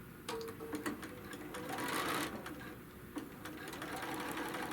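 Sewing machine stitching through quilt layers, a steady mechanical whir with faint rhythmic needle clatter running continuously at close range, without speech.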